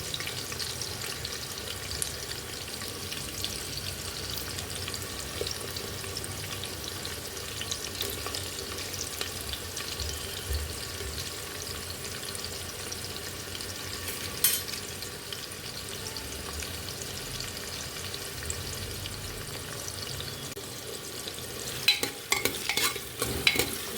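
Two large onions fry in oil inside a pressure cooker for yakhni pulao, giving a steady, close sizzle with faint stirring scrapes, and a few sharper clatters near the end.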